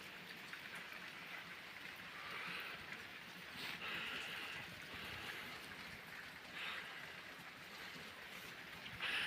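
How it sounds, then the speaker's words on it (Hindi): Light rain falls in the mountains of Tehri Garhwal, Uttarakhand, a steady soft hiss of drops with occasional louder patters close by, continuing alone without talk. "तो फिलहाल ये बारिश यहाँ पर हो रही है, आप देख सकते हैं अभी हल्की बारिश है।"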